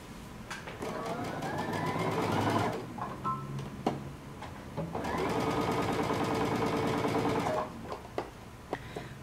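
A sewing machine runs in two long steady bursts as it stitches the shoulder seams of a mini dress, with short clicks and pauses between runs.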